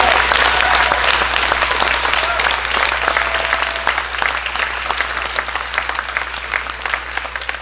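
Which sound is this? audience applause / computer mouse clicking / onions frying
audience applause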